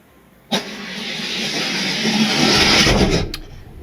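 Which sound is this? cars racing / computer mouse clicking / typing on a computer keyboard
cars racing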